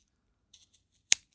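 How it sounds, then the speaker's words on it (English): Sharp scissors snip through macrame threads in a single crisp, close cut, preceded by a few faint light ticks and followed by quiet. "And then I'm going to use my sharp scissors"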